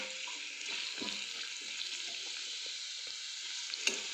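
Carrots cook in a pan with a constant soft sizzle and hiss of steam, overlaid by occasional stirring clicks and spoon scrapes, close and moderately quiet.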